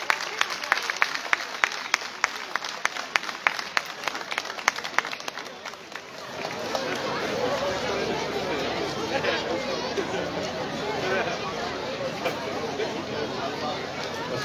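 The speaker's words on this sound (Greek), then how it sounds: "Να δω ένα χειροκρότημα για τον σεφ." A crowd at the 12th Mushroom Festival in Dadia, Soufli, applauds the chef: a voice talks over scattered claps at first, then broad, sustained applause and chatter fill the rest.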